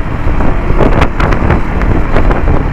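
A 2025 KTM Adventure 390 motorcycle on a test ride: loud, constant wind buffeting roars over a steady engine drone, with brief gusty surges throughout and no voices.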